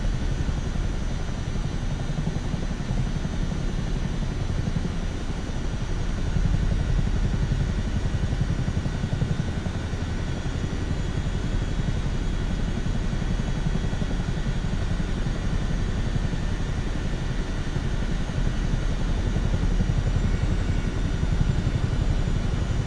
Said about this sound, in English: you can actually hear the engine straining when you turn